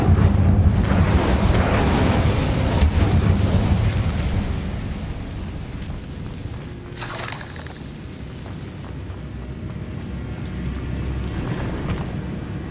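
An Incendio fire spell cast in Hogwarts Legacy, a loud roaring whoosh of flame with a deep rumbling burst that fades over several seconds into a softer crackling hiss.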